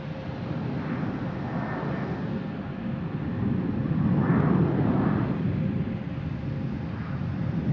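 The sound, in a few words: American Airlines plane arriving at Boston Logan Airport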